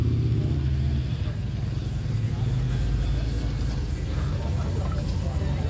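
A motorcycle engine runs steadily nearby, a deep continuous low rumble with a throaty pulse, while people talk over it.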